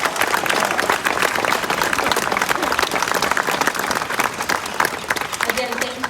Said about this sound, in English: Please give a round of applause to President John Briscoe.